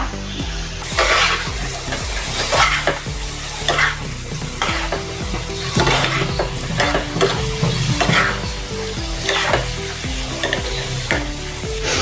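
Fried potatoes stirred into a sizzling dum aloo gravy made with yogurt in a kadhai, with a steady close sizzle under repeated scraping and stirring strokes.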